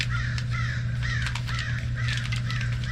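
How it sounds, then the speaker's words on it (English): Several crows caw outdoors in repeated harsh calls, fairly close, over a steady low hum while side pipes are being fitted to a C3 Corvette. "I think the crows"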